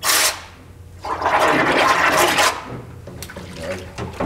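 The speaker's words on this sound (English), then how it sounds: "go inside the solvent tank, and you'll see how I blow it with air" Compressed air blown through a gearset submerged in a solvent tank, loud bursts of hissing, churning liquid, a short burst then a longer roiling stretch, followed by quieter bubbling and knocks.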